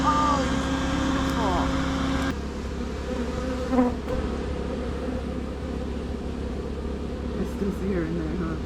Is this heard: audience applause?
no